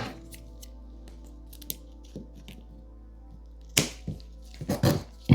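Scissors cut through carbon fiber cloth in a quiet room: a few light, sparse snips early, then a cluster of sharper, louder crisp cuts and rustles near the end.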